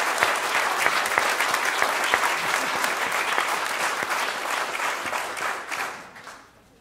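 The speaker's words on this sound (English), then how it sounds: "I guess one more round of applause." A church congregation at a Second Sunday in Advent service breaks into full, sustained applause that fills the room, then fades away in the final second.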